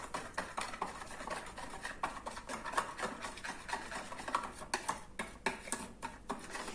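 Pork loin being rubbed and mixed by hand with pepper seasoning: soft, continuous rubbing and scraping with quiet repeated ticks and knocks, close by and with no talking.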